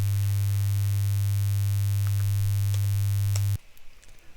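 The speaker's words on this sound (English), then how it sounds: "So we get a 100 Hertz sine wave there." A 100 Hz sine wave generated in Sema audio software plays as a steady, loud, pure low hum, then cuts off abruptly near the end, leaving faint background noise.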